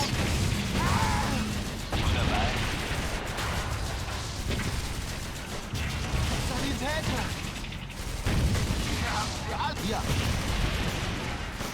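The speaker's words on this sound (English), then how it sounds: "that Stug just got hit pretty damn hard" Blitzkrieg 3 WWII battle: a StuG assault gun takes a heavy hit amid steady gunfire, artillery crashes and mechanical clatter, with dense layered battle noise throughout and talk over the top.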